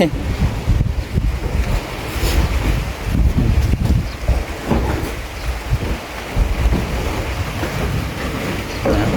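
Steady heavy rain roars with gusty storm wind buffeting the microphone, a dense continuous wash of noise throughout, with no voices.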